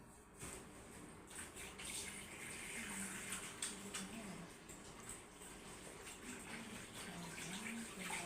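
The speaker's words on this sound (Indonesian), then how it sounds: "saya cuci tangan dulu ya Ibu" Hands being washed under a running tap before a midwife's consultation, with a steady wash of water noise across the whole clip and no voices.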